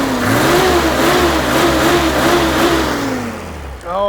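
A Toyota Landcruiser HJ45 with its H diesel engine is revved up close, a loud, sustained droning note that rises and wavers before dropping back toward idle.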